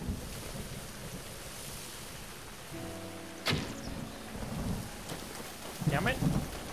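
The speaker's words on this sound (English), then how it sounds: "it never stops raining and thundering" A stormy scene in The Legend of Zelda: Breath of the Wild: continuous heavy rain hisses while a sharp thunderclap cracks midway, followed by rolling rumbles and a few later bursts.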